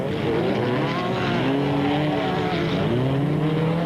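Super trucks racing at a 1998 Super Series event: a steady, loud engine roar with rising and falling revving pitch as the trucks accelerate and shift gears, continuous throughout with no speech.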